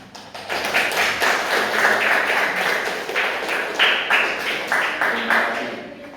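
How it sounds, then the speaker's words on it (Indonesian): Hands clap in a classroom for several seconds as a group applauds, a dense, fairly even patter of claps close by, with faint voices mixed in underneath. "Tepuk tangan."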